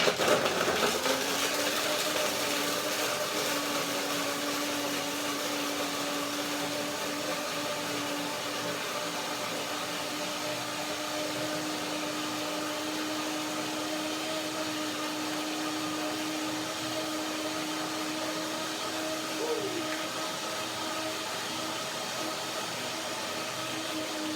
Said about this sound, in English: When the sound of the blender goes higher, you notice that it's a little bit too dry.